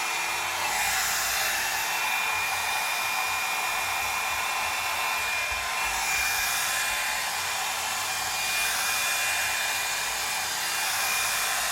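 A hair dryer blows steadily on hair, a loud, close, constant whooshing roar that shifts slightly in tone as the airflow moves.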